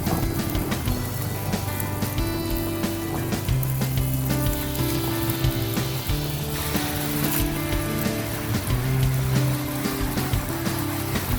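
Steady rain falls on surfaces with a dense, constant patter and scattered drip ticks, loud and unbroken, with no voices.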